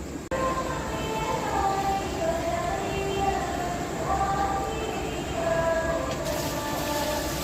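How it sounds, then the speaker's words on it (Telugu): Guntur-to-Rayagada passenger train at a station platform, a steady rumble of rolling rail cars with faint wheel squeal, continuous and moderately near, no voices. "ఆ ట్రైన్ గుంటూరు నుంచి రాయగడ వెళ్ళే బండి అండి."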